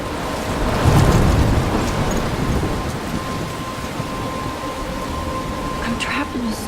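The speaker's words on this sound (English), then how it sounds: "I'm trapped in a storm?" Thunderstorm with steady heavy rain in the Life is Strange video game, a broad continuous wash with a low rumble of thunder near the start, a faint steady tone running through.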